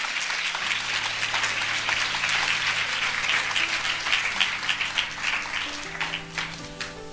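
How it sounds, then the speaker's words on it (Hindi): A church congregation claps together in sustained, dense applause that fills the room, tapering off toward the end as a low tone rises beneath it. "आइए हम इस वचन के लिए अच्छी ताली बजाएंगे।"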